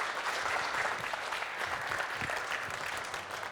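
Applause from the audience at an Adobe Education Summit creative jam showcase in the UK, a steady, dense wash of clapping from a sizable crowd, heard at a moderate distance and sustained throughout.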